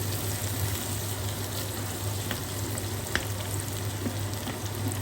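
Onion sizzles and fries in butter in a pot for goulash, a steady crackling hiss with faint stirring clicks, close and continuous with no voices.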